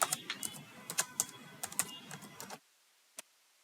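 Close, crisp keystrokes on a computer keyboard typing a Google search in a Chrome browser, an uneven run of clicks that stops abruptly, followed by one lone tap after near silence.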